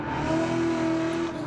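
A Corvette C1 or C2 sports car pulling through uphill curves with a sustained, steady engine drone, close and loud, holding one strained pitch with a faint tire-squeal edge.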